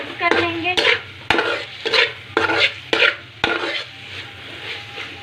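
Okra masala with salt, turmeric and red chilli is stirred in a frying pan, a spoon scraping in repeated strokes with sharp clinks against the pan over a soft sizzle, close and clear with no talk.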